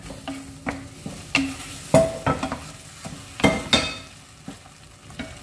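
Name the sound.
prawns frying and being stirred in a pan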